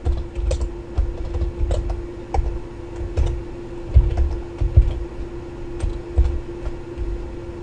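Keys clatter on a computer keyboard in a quick, uneven run of close, crisp clicks, with a steady faint hum in the background and no talking.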